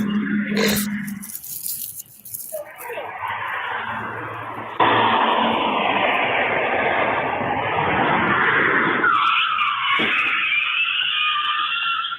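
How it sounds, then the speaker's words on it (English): Car tires squeal and skid for a long stretch, a sustained harsh screech that starts abruptly and holds for several seconds, loud and close, after a brief burst of other noise. "how long it took for that car to come to a stop? Like, the tires squealed"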